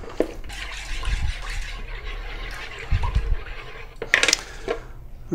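Clinks and scrapes of a utensil against a bowl while sourdough starter ingredients are mixed, irregular knocks and splashy stirring close by, with a brighter clatter near the end.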